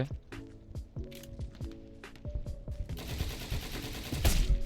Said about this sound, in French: Il m'a mis une grosse balle de sniper.